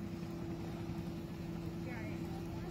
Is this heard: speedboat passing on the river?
yes